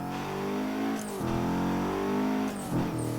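A turbo Mazda MX5 engine revs hard and shifts rapidly through the gears on the Nordschleife, with rising engine notes broken by two quick gearchange dips and a brief chirp of turbo or tyre.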